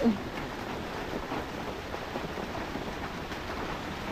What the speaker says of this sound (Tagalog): nabot tayo ng ulan ulit